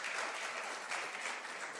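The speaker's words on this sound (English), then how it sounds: "Let's clap for him. Let's clap for him. Let's clap for him." A conference crowd claps for a University of Ghana student at the Harakati Za Muungano international conference, with continuous dense applause filling the room at an even, moderate level.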